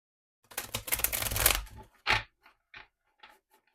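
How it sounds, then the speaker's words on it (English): A tarot deck, the Artist Decoded Tarot, being shuffled by hand: a dense burst of riffling card flutter and crisp slaps, followed by a few separate taps and soft card knocks, close and quiet with no talk. "As we shuffle these cards, we are gathering the information that we need to hear today."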